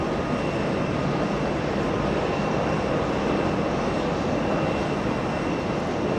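A steady, broad jet roar fills the air at JFK airport, where an Emirates A380 is running nearby, loud and unbroken throughout with no voices.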